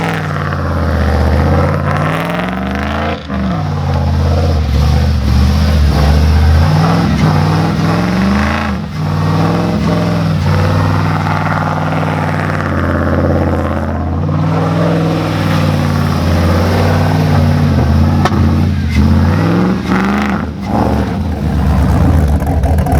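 A cammed 5.3-litre Chevrolet Silverado pickup revs hard while doing donuts in snow, its loud, lumpy engine note rising and falling through repeated throttle surges over about twenty seconds, with no talking.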